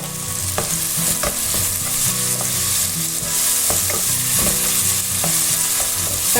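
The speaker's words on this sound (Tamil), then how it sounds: "மீடியம் ஃப்ளேமில் வச்சு நல்லா வதக்கிப்போம்." Tomatoes sautéing in oil in a pan on a medium flame for soya chunk masala, a steady close sizzle and frying hiss with repeated soft scrapes and clinks of stirring, no voices.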